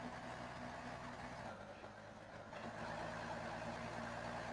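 A four-wheel-drive scout truck in the video game Snowrunner runs with a low, steady engine drone, quiet and continuous with no talk over it.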